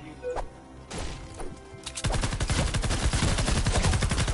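A few scattered thuds and cracks, then a loud continuous burst of rapid gunfire in a video game that runs to the end.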